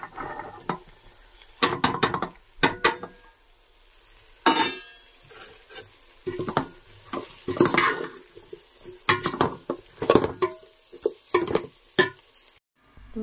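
Mushrooms are stirred and fried in a pan for mushroom biryani: repeated scraping and clattering strokes of a spoon against the pan over a soft sizzle, in irregular close bursts.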